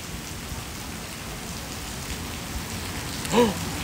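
Heavy rain pours in a steady, dense hiss across the whole stretch, close and even, with a brief tonal sound rising near the end.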